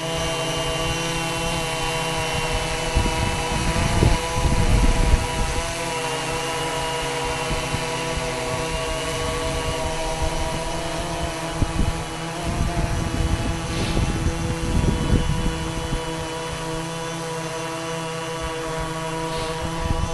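A DJI Phantom 2 quadcopter drone flies aggressively, its propellers giving off a steady, high buzzing whine with surging bursts as it manoeuvres, heard close and alone.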